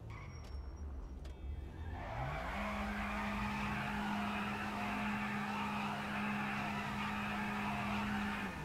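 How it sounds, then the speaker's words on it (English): An Emperor Habanero car in GTA 5 revs into a sustained loud engine drone with tire squeal, holding a steady high whine for several seconds after a brief rising start. "We're going to go ahead and test the engine."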